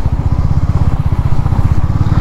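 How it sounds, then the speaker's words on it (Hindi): A motorcycle engine chugs close by on a muddy road, a loud, steady low-pitched throb with rapid regular pulses that holds throughout. "पहले एक बाइक को जाने देते हैं उसके बाद हम निकलेंगे"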